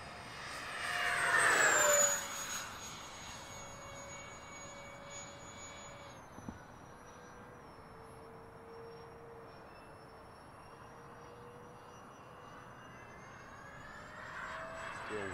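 An Xfly J65 twin-EDF model jet at full throttle gives a sustained high, whining roar. It swells loudly as it passes near, then settles into a steady, more distant whine for the rest of the flight, with no voices heard.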